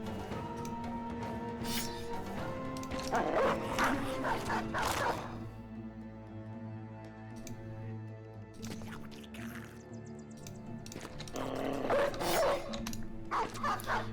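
Dogs bark amid a goblin battle in a video game, with repeated barks and yelps scattered over game music and combat noise at moderate loudness, no speech.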